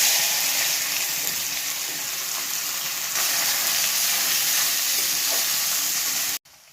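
Chicken pieces frying in hot oil in a kadai for restaurant-style chicken rolls, a loud, steady broadband sizzle that holds evenly for several seconds, then cuts off abruptly near the end.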